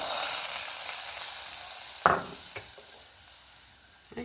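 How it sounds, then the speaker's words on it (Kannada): Hot mustard and garlic tempering poured into rasam, a steady hiss of sizzling followed by a sharp splash and crackle, then fading bubbling with a couple of faint clinks. "ಒಗ್ಗರಣೆ ಆಯ್ತಲ್ಲ ಇದನ್ನೀಗ ಸಾರಿಗೆ ಹಾಕೊಂಬ ಫ್ರೆಂಡ್ಸ್"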